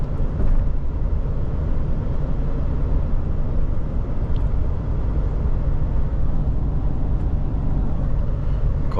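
Steady engine and tyre roar from a car driving on the ring road out of Kyiv toward Zhytomyr and Lutsk, loud and continuous throughout with no pauses.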